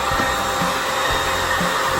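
Hair dryer running steadily indoors, aimed at a water-damaged RV ceiling from atop an extension ladder; a constant close airy whoosh with motor hum, loud and unbroken throughout.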